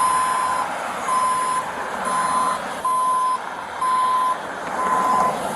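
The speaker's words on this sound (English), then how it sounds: "your car's now getting towed" Tow truck reversing alarm beeping in a steady repeating pattern, roughly one long beep per second, loud and clear over a low traffic background with no talking.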